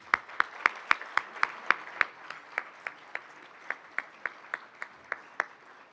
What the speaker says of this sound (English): Please join me in thanking Gretchen with a round of applause.